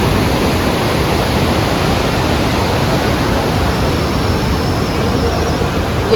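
The river at Gaurikund rushes past in a dense, loud, continuous roar of flowing water, broadband and unbroken throughout with no talk.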